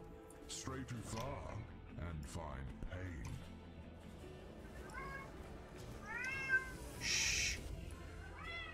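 A pet cat meows several times in a room, close and fairly clear, with someone talking over game audio before and between the cries.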